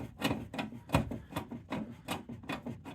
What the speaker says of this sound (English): keep screwing and screwing